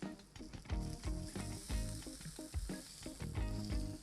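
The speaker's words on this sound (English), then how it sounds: "When searing fish, you want to push down gently on the fish to make sure you get good contact with the pan so you get a nice even sear" Halibut sears in a hot pan, giving a steady, close sizzle and crackle throughout, with recurring low thumps and some tonal layers mixed in.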